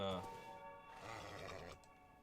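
A horse's whinny rings out briefly at the start, then fades into background game sounds and music-like tones.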